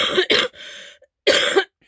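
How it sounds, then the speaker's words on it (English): A person coughs close to the microphone: a quick double cough, a raspy trailing breath, then another harsh cough after a short pause. "can hear that cough?"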